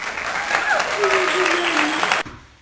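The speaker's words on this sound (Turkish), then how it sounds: "Alkışla kendini oğlum" A small boy clapping his hands at home while his mother talks to him, a run of quick claps under her speech, then an abrupt stop near the end.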